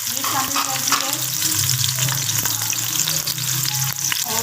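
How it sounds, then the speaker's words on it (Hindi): Large sliced onions sizzling briskly in hot oil in a pot, a loud continuous crackling fry with repeated scraping and stirring clatters throughout. "अब हम प्याज को ऑयल में फ्राई करेंगे"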